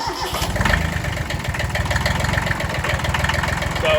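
A Kubota B6100 tractor engine cranks and catches, then settles into a steady, loud chugging idle with a low rhythmic pulse throughout.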